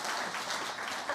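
Brief applause from an audience at a company talk, a dense, even patter of clapping that fills the moment without voices.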